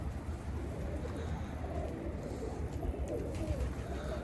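Pet pigeons, just let out after a week cooped up, coo softly in low repeated murmurs against a quiet outdoor background.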